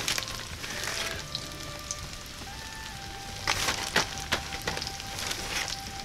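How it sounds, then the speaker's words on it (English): Boneless pheasant pieces fry in bubbling butter, giving a steady, fairly quiet crackling sizzle with scattered sharper pops and spits, no voices. "That butter is going to bubble up and envelop this stuff"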